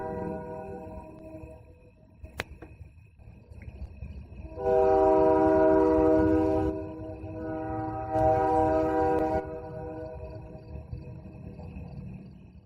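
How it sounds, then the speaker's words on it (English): A long, steady train whistle sounds twice from a distance near Braeside Beach, Merrickville, each blast lasting a couple of seconds over a low background rumble. "A distant train whistle in the background added a little extra ambiance to the moment as well"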